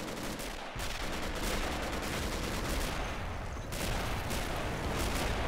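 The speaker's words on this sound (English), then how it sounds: "the artillery's just landing nearby" Artillery shells land nearby in a World War II shooter with a realism mod at Pointe du Hoc, a dense loud barrage of booms and rapid gunfire crackling continuously.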